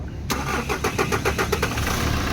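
A Kia Sorento with a D4CB diesel engine that starts hard cranks and catches, then settles into a steady, loud idle with a rhythmic mechanical clatter, recorded close to the engine.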